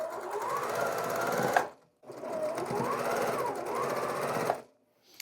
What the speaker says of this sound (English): I'm going to go all the way down chain piecing, putting column 2 on top of column 1